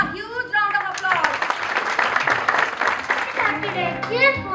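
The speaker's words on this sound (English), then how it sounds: "Give them a huge round of applause." School audience applauding at a Mother's Day celebration at G.D. Goenka Public School in Agra, a burst of clapping lasting a few seconds, with children's voices at the start and end.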